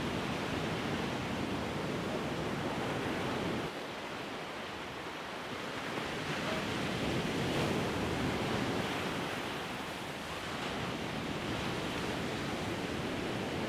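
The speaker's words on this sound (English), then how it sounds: "Insane how powerful those waves are." Powerful ocean waves on a white sand beach in Bali make a continuous loud roar of surf that swells and eases slightly, with no voices over it.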